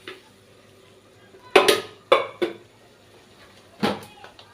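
Potatoes and eggplant dropped into a simmering pot of sour vegetable curry in a Bangladeshi village kitchen: a few sharp clattering splashes and metal knocks, spaced irregularly, loud and close over a quiet background.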